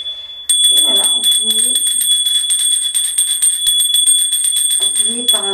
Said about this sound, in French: finit par un son de cloche